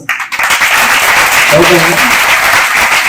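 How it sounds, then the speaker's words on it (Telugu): An audience claps together, a steady burst of applause filling the space while a voice speaks briefly over it. "క్లాప్స్."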